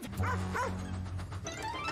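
Cartoon dog in a Thomas the Tank Engine episode giving two quick yipping barks over a low engine hum and background music.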